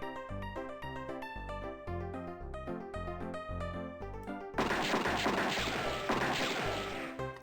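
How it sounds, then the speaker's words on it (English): Gunshots and shouting erupt in front of the saloon in the 1993 Western adventure game Freddy Pharkas: Frontier Pharmacist, a sudden dense burst of noisy commotion cutting off a plucky tune midway and continuing to the end. "Without warning, you hear gunshots out in front of the saloon, plus lots of yelling and shouting."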